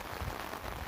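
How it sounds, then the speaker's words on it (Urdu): Torrential monsoon rain pours in a steady, dense hiss with no breaks, filling the space evenly without any distinct individual drops. "کس طرح دوسرا دن ہے بارش مسلسل لگی ہے"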